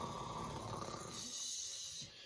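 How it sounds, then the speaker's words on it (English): A snoring sound effect plays during a bedtime story, one long rumbling snore at low volume that fades away near the end. "One giant snore sailed through the night."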